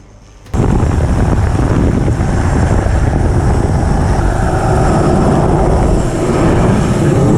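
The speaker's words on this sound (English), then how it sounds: "Fortunately, the crew was rescued by helicopter in time." Rescue helicopter over a ship in rough weather, a loud, continuous rotor and engine roar mixed with wind noise that starts abruptly and holds steady to the end, with no talk.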